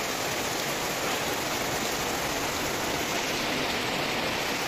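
Heavy rain pours steadily at a beach in Ternate, a dense, even hiss that fills the whole clip with no pauses or voices.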